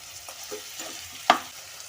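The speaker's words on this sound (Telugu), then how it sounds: "ఇదంతా ఈ మసాలంతా ఈ ముక్కలు పట్టే విధంగా ఫ్రై చేసుకోవాలి" Mutton pieces frying in a cooker with masala and coriander powder give a soft, steady sizzle, with stirring and one sharp scrape of a utensil near the middle, close and quiet, with no talking.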